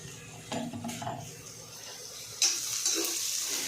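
Chopped onion frying in a pan for Akola-style vada pav, a soft sizzle broken by a few scraping stirs and clinks of a spoon against the metal, close and fairly quiet.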